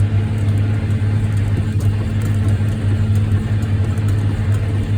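A farm tractor's engine runs steadily during spring tillage, a loud, continuous low drone with a constant mechanical hum and no talking.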